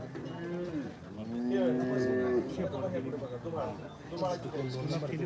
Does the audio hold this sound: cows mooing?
yes